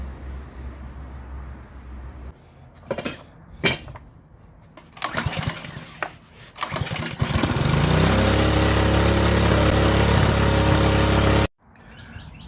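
A DeWalt petrol pressure washer engine cranks in several short, loud bursts, catches, sputters, then settles into a steady, loud running roar before cutting off abruptly, with birds chirping faintly in the background.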